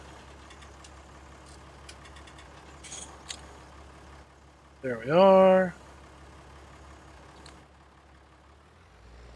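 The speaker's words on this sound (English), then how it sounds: "start the engine." A truck engine in a video game idles low and steady, then gives a short, loud surge partway through, with someone talking briefly over it.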